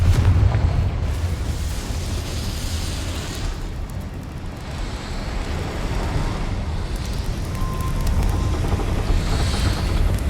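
A Confringo explosive spell blast in the video game Hogwarts Legacy, a loud rumbling boom opening the clip and rolling into a sustained roaring low rumble with wind-like noise that holds for several seconds.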